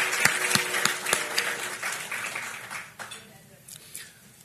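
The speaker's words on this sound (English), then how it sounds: "please give them a round of applause" Luncheon guests at a Carpinteria Chamber of Commerce community event clap: a few crisp, close claps over a softer crowd patter that gradually fades out over about four seconds.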